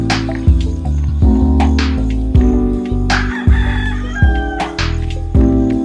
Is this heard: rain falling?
no